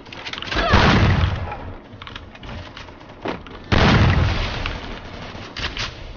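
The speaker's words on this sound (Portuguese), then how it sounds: "Pelo, dá um tiro nesse cara" Loud, close booming gunshots burst out in two heavy clusters with smaller pops between them, sharp and punchy.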